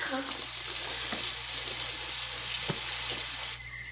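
Hot water pours steadily from a tap into a sink, a loud, even rush of splashing that fills the whole stretch with only faint background sounds.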